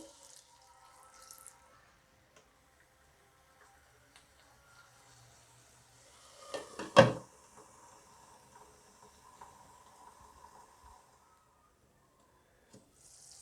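Water splashes and sizzles into a hot pan of red chilli masala for shahi paneer in one brief burst, followed by a soft hiss and faint bubbling.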